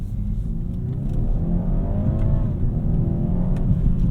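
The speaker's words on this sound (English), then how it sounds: "Love this 4-cylinder engine." A 2021 BMW 430i xDrive with its four-cylinder engine and manual shifting accelerates hard with stability control off; a loud, rising engine drone and growl builds steadily from inside the car.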